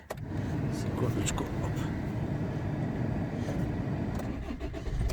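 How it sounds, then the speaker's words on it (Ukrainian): A Land Rover Freelander engine cranks and catches quickly, then settles into a steady, close idle that runs under a brief spoken word. "Автомобіль заводиться з півоборота"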